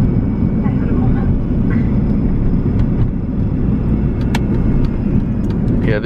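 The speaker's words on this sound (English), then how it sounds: "I really like this Mini. It's a very nice car. I'm in second" Mini car engine driving in second gear, with a loud continuous low rumble and road noise from inside the cabin throughout.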